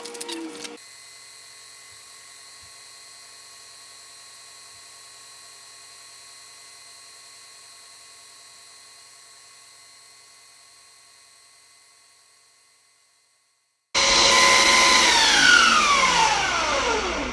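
A Ninja blender roars loudly in a sudden burst near the end, whirring at high speed after a long stretch of faint, steady hum.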